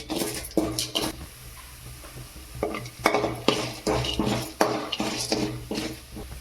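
Urad dal and chana dal frying in hot oil as a spatula stirs and knocks against the pan, giving repeated close metallic scrapes and clinks over a light sizzle.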